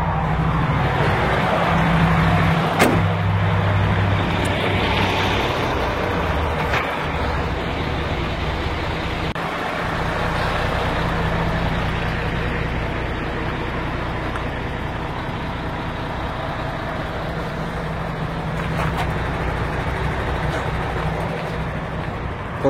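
A car engine idles steadily and evenly for a long stretch, a low continuous hum with faint clicks and small shifts as someone walks around the parked vehicle outdoors.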